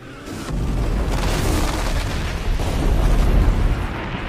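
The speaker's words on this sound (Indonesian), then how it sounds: "ia pun mengambil sidik jari agen itu dan meledakkan pom bensin tersebut." A gas station explosion in the film The Beekeeper, a loud deep boom that swells into a sustained roar and rumble lasting several seconds.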